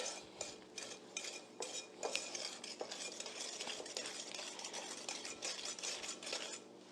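Brownie batter mixed by hand in a bowl until the flour is incorporated, with quiet, rhythmic spoon scrapes and clinks against the bowl repeating close by.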